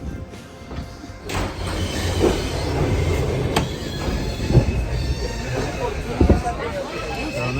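The Flåm Railway train in Norway rumbles steadily along the tracks, with occasional clanks and brief metallic squeals. Voices talk faintly over it.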